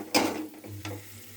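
Coriander powder is stirred into fish curry masala frying in a pan, a couple of brief scraping strokes over a soft, close sizzle, no talking.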